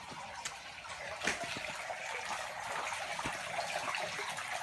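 A DC 4000 water pump pushes water into a trash can, giving a steady, close rushing and splashing gush with a few brief knocks, continuous throughout and with no talking.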